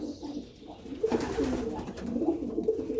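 Pigeons in a pigeon loft coo softly and repeatedly, a low, gentle rolling coo close by amid quiet rustling.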